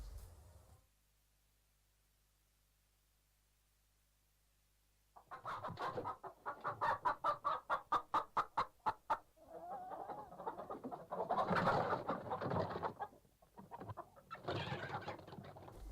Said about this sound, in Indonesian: Mulailah kedua ayam jantan itu dilepaskan untuk diadu.